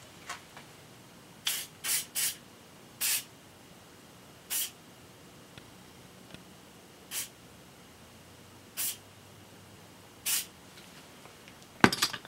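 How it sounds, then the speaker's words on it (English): Short bursts from a spray can of silicone lube coating a part during a 1975 Suzuki GT750 engine rebuild, about eight separate hissing puffs spaced a second or two apart in a quiet shop. "I'm just going to give it a little coat of some silicone lube, just to help it slide into that groove there"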